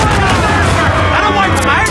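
Ship cannons in the pirate game Assassin's Creed Black Flag fire in a dense, loud, continuous barrage of booms and rumbling, with voices shouting underneath.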